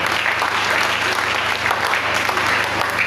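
A church congregation applauds in praise, a dense, steady wash of clapping that fills the whole stretch without a break.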